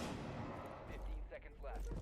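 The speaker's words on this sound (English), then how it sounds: "Flashbang goes through." Flashbang grenade detonating in Rainbow Six Siege during a tournament match, a sharp burst layered amid gunfire-like game noise, with a caster talking over it.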